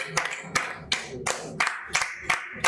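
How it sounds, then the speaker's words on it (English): A group of people claps together in a steady, even rhythm of sharp, loud beats at a launch event in Sierra Leone, with faint voices underneath. "Keep clapping, keep clapping, keep clapping"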